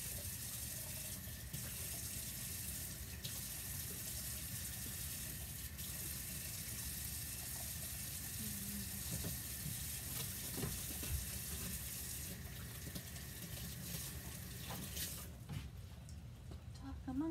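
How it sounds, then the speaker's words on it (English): Sink tap running steadily while chalk screens are washed out by hand, a constant close water rush with occasional splashes under intermittent talking. "So I'm going to go real quick and to the sink right next to me, and I'm going to wash the screens out so we can do more."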